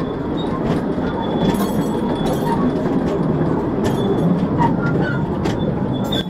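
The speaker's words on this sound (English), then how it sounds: "The tour ended by us taking the train out the way we came." Steady rumbling and rattling of a small mine tour train riding along rails, continuous and fairly loud, with faint clicks and brief higher squeaks.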